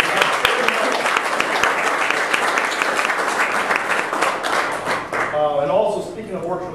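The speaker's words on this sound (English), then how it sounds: "How about first a round of applause for Orchard Lake Country Club?" A crowd applauds loudly and steadily for several seconds at a golf media day at Orchard Lake Country Club in Michigan, a dense wash of clapping that thins out toward the end.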